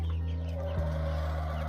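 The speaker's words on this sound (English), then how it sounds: "the chickens are wet and grouchy" Wet, grouchy backyard chickens cluck and grumble close by after a night of heavy rain, with a steady low background hum throughout.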